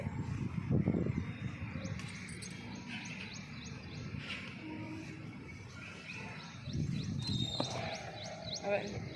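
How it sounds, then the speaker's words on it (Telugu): Sparrows chirp in the trees behind a terrace garden in the early morning, scattered faint tweets over a soft outdoor background with intermittent talking. "పిచ్చుక చూడు సౌండ్ ఎలా వస్తుందో కదా"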